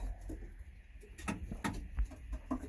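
Pigeons in a keeper's loft murmur with low, intermittent coos, mixed with scattered light clicks and knocks nearby, fairly quiet and without speech.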